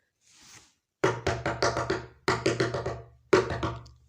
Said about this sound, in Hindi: इतनी सी देर में दरवाज़ा बज गया।